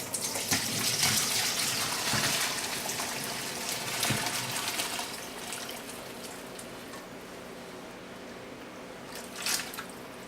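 Hot chicken broth pours steadily into a sink with a continuous splashing rush, loudest at the start, then easing to a gentler trickle with a few drips.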